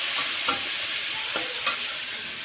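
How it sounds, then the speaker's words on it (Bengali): Carrot and beetroot pieces fry in a pan with a steady, close sizzle, while a few soft stirring scrapes break through the even hiss. "এগুলো সব ভাজা বসিয়েছি এখানে।"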